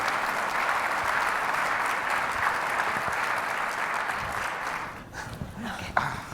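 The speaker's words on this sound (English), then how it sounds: "Round of applause, please." A conference room full of people applauds steadily for a panel, a dense wash of clapping that fades out toward the end.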